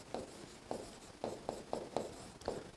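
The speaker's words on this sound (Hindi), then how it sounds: "तो यहां लिखना पड़ेगा" Chalk or marker strokes on a board during a Hindi-language geography lecture on tropical cyclones: a quiet, steady series of about eight short scratching strokes in a loose rhythm, with no talking.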